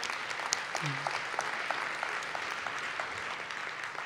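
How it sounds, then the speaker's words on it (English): A conference audience gives a round of applause for the organizers, steady mid-distance clapping filling the room at moderate volume, with a faint voice briefly heard beneath it. "Shall we give them a round of applause for everyone that worked on it?"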